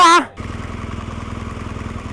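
A motorcycle engine drones with a steady, pulsing low rumble during a group ride on a rocky climb, starting right after a brief voice cuts off and holding at an even level.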